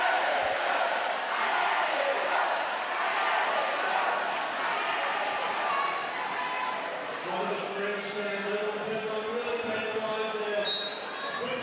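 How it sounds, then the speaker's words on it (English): Crowd noise at a roller derby game at the 2018 Men's Roller Derby World Cup in Barcelona, France against Australia: a steady, loud wash of cheering and crowd roar running throughout, with a commentator talking over it. "the crowd have responded with rapturous amounts of noise"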